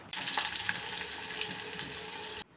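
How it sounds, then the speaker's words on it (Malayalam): Mustard seeds, curry leaves and onion fry in hot oil for a beetroot thoran, a loud, steady, close sizzle with faint popping that runs unbroken and then cuts off abruptly near the end. "അതിലേക്ക് കടുക് ഇട്ട് കൊടുക്കാം, കറിവേപ്പില ഇട്ട് കൊടുക്കാം, ഉള്ളിയും കൂടി ഇട്ട് കൊടുക്കാം."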